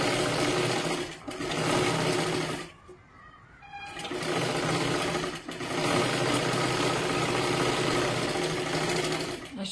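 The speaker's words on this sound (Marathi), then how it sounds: "बाही इथे डबल शिलाई मारून घ्या" A sewing machine runs double stitching along a blouse sleeve in close, loud bursts. It runs about three seconds, stops briefly, then whirs steadily again, with no voices.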